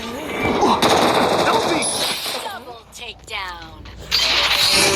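Gunfire in the mobile shooter game Free Fire comes in rapid bursts of automatic shots, loud and close. Excited talking runs under and between the volleys.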